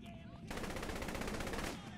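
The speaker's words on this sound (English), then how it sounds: "Who is shooting what?" Rapid automatic gunfire in Saints Row: The Third bursts in loudly and keeps rattling in a continuous fast stream for over a second before cutting off.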